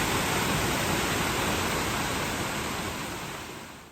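Constant rushing roar of a waterfall near Ambleside in the Lake District, dense and broadband, steady throughout and slightly fading toward the end.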